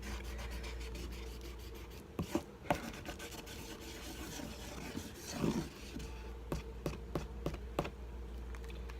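A blue Liquitex marker scratches and rubs across a textured cold wax panel in quiet, close strokes. Soft continuous scraping is broken by a few sharper taps and drags.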